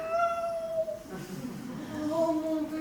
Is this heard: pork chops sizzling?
no